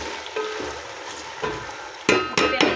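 Sliced onions frying in hot oil for chicken biryani, a steady close sizzle with a few sharper bursts of stirring toward the end and no talk.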